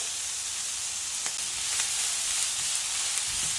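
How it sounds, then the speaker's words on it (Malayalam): Onions salted and sautéing in a pan for a mixed vegetable kuruma give off a steady, close, bright sizzle with a few soft stirring clicks, no voices. "നന്നായിട്ട് സോട്ട് ചെയ്തെടുക്കാം നമുക്ക്"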